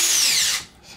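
A cordless power drill whirs briefly while backing out screws on a TRX-4 RC truck, a close high whine that cuts off before the second ends.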